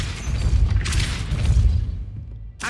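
A Depulso spell cast in Hogwarts Legacy, a deep rumbling blast with a whooshing burst, then a short sharp hit near the end.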